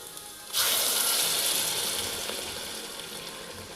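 Ground masala paste for a fish curry dropped into a hot pan, bursting into a loud, bright sizzle that starts suddenly and then slowly fades, with no voices.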